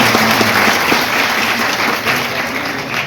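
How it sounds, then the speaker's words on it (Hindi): Loud, dense applause from a large audience at a public event in Chhindwara, a steady wash of clapping filling the space without pause, with faint tonal murmur underneath. "उनके लिए एक बार जोरदार तालियां हो जाए"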